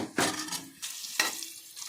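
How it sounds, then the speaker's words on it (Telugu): Onions frying toward golden brown in a pan for coconut biryani, with two or three sharp scraping stir strokes of a spoon against the pan over a low sizzle. "ఇప్పుడు ఆనియన్ కూడా గోల్డెన్ బ్రౌన్ వచ్చేలా బాగా ఫ్రై చేసుకోవాలి."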